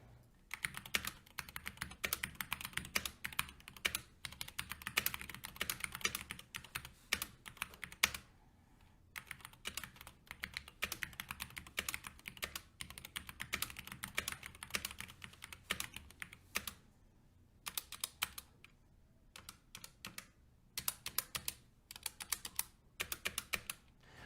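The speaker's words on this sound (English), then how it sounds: "the typing noise of the SteelSeries Apex Pro is par for the course for a mechanical keyboard." Rapid clicky keystrokes on a SteelSeries Apex Pro mechanical gaming keyboard rattle on at close range, steady typing with occasional brief pauses.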